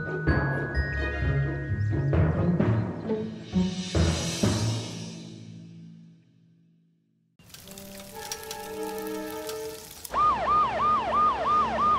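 A cartoon fire truck siren wails in rising and falling sweeps near the end, following musical chords and a descending tone. The siren plays loud and alone with no talk.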